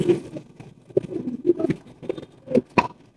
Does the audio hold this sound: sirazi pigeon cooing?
yes